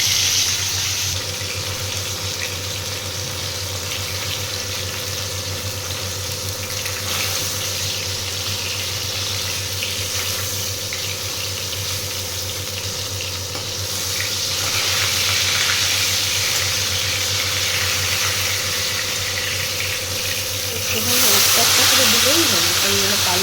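Whole fish frying in oil in a home kitchen, a steady broad hiss and crackle that swells louder midway and flares again near the end, with a low constant hum underneath.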